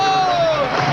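Basketball fans roar and cheer in the arena during Game 3 of the 1992 NBA Finals, Chicago Bulls against Portland, a loud, dense, sustained crowd noise.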